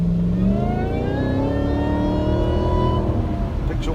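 A supercharged Audi A6 engine accelerates hard, its whine and roar climbing steadily in pitch for about three seconds before easing off, heard loud from inside the car.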